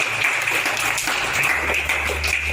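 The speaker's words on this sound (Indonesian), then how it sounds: "Tepuk tangan untuk Tuhan Yesus." A church congregation breaks into sustained applause during a personal testimony, dense overlapping clapping filling the room steadily from start to finish with a faint low hum underneath.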